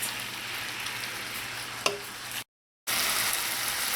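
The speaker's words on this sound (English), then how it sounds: "I'm going to leave this to continue to cook and let that garlic caramelize" Guyanese garlic pork cooking in a pot as the liquid dries out and the garlic caramelizes, giving a steady broad sizzle with one brief clink, then a short gap before the sizzle resumes.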